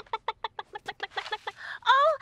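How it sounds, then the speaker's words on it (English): Cartoon farm chickens cluck in a quick run of short, evenly spaced calls, followed by a louder, drawn-out squawk near the end, clear and close with no talking. "I'm looking after Moo's chickens"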